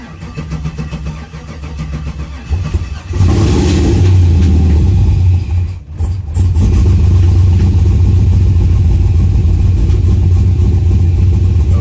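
An LS V8 swapped into a third-generation Camaro cranks, catches and roars to life, then settles into a loud, deep, steady idle close by, with a brief dip just after starting.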